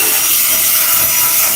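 A brush scrubs the interior of a Toyota Highlander during detailing, a steady, close, loud scratchy rubbing with no pauses.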